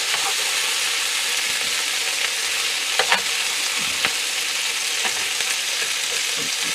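Peppers sizzle with mutton in a hot pan, a loud continuous hiss with occasional light pops and crackles, no talking.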